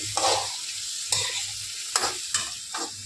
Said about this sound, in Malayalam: കടുക് വറുത്ത് ചക്കക്കുരു ഇട്ടടക്കി